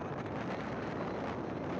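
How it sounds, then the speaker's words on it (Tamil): Strong sea wind buffets the microphone on the coast near the new Pamban railway bridge under construction, a continuous loud roaring rush with no pauses, waves and water churning faintly underneath. "காற்று ரொம்ப அதிகமாக இருக்குது"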